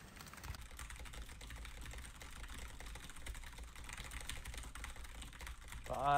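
Fast typing on a computer keyboard during a Monkeytype speed test, with a dense, rapid, even clatter of keystrokes. Near the end a brief tonal sound rises over it.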